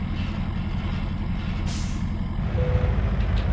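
A hiss of air brakes releases as a trailer is detached from a truck in American Truck Simulator, sounding over a steady low engine rumble, with a brief higher burst partway through and no talking.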